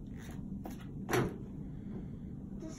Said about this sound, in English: This is a drawer by a stool. You see? It moves.